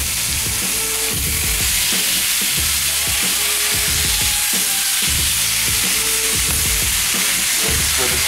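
A steak of a little over a pound fries in a pan with olive oil for cheesesteak pockets, giving a continuous dense sizzle with steady crackle and a recurring low thumping underneath.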